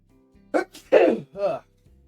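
A single sharp sneeze bursts out close by, preceded by a quick intake of breath and followed by a brief vocal sound, in an otherwise quiet room.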